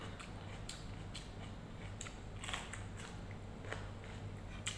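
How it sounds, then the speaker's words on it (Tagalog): Crisp, crunchy bites into raw bell pepper repeat at a steady pace, each crackling snap sitting up close against faint background hum, with no talking. "Ang sarap ng bell pepper, ang lutong."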